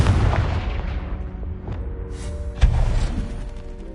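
A Confringo fire spell explodes in Hogwarts Legacy, a booming blast with a sharp secondary burst partway through, loud and close amid continuous rumbling game effects with no talk.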